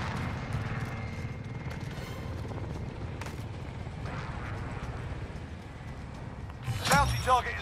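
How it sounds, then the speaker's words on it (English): An attack helicopter circles in Call of Duty: Modern Warfare, a low rotor thrum beneath dense game audio and speech, ending in a burst of gunfire and explosions. "Attack chopper is in the AO. Bring it down and recover the cash."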